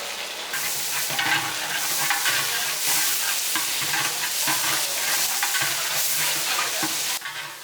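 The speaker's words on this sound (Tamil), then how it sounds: "எண்ணெய் ஊற்றி வெங்காயம் போட்டிருக்கு. இலை பிரியாணி இலை கொஞ்சம், கல்பாசி பூ கொஞ்சம்" Onions frying in oil with bay leaf, black stone flower and spices for chicken salna, a loud steady sizzle broken by rhythmic spoon scrapes and stirring, close up throughout.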